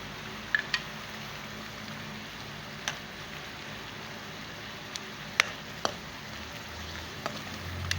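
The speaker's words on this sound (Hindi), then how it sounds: "ये एंड का तड़का है, काली मिर्च और कुटी हुई मिर्च।" Black pepper and crushed red chili tempered in hot oil as a finishing tadka for a Pakistani chicken karahi, giving a steady, soft sizzle with a few sharp crackles and pops scattered throughout.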